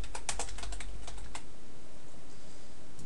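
Someone types a file name on a computer keyboard: a quick flurry of close, crisp key clicks in the first second and a half, then quiet room tone.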